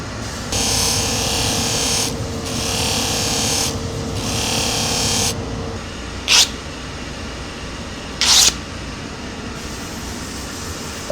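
A forged blade is polished with ceramic sandpaper softened by warming, heard as close, bright strokes in three long rasping passes, then two short sharp scrapes with pauses between.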